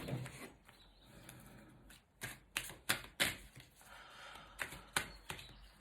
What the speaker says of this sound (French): On bat les cartes.